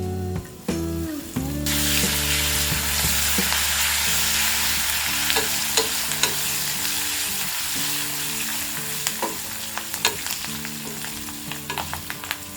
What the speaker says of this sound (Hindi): हमारा ये काजू भी अच्छी तरह से फ्राई हो गया है